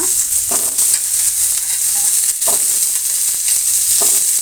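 Chopped radish fries in a little oil in a pan, giving a steady bright sizzle with periodic scraping stirs roughly every two seconds, close and alone.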